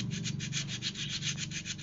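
Rhythmic back-and-forth scrubbing of sandpaper on a Benelli Evo 200 motorcycle front brake that has a noise fault, about nine quick, even strokes, close and clear with no talk.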